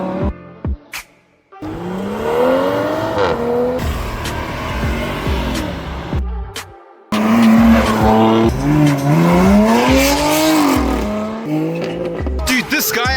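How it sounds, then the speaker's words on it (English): A car drifts at a Cars & Coffee meet, its tires squealing in long wavering screeches while the engine revs hard close by, the sound briefly broken off before building again as people talk faintly underneath. "this guy actually just started drifting and he lost it"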